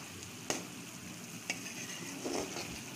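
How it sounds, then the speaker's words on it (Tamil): Low bubbling and sizzling from an ivy gourd curry coming to a boil in a pot on the stove, with a couple of sharp spoon scrapes stirring at steady intervals, no talking. "இப்போ பார்த்தீங்கன்னா கொதிக்க ஆரம்பிச்சிருக்கு"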